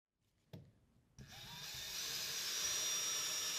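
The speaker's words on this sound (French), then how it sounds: "Vous percez ici quelques ouvertures, elles serviront aux boulons qui permettront de maintenir le cadre contre le couvercle." An electric drill bores holes into a lid, with a couple of clicks before the motor spins up to a steady high whine that grows louder and continues alone.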